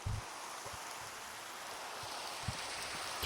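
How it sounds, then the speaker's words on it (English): Steady rain pours in the Minecraft video game at night, a soft continuous hiss with a few low muffled thumps near the start and middle. "So much rain today, isn't there"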